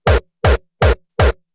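A Roland 909-style kick tuned to G, EQ'd and pushed with distortion and drive, hits four times at an even pace, each punchy and booming with a gritty top, alone and up close.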